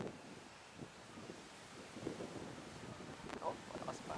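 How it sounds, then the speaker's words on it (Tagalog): Strong wind buffets the microphone in low, uneven gusts at an outdoor field while a small RC sport trainer plane comes in to land, with faint, distant voices underneath. "I'm fighting strong wind."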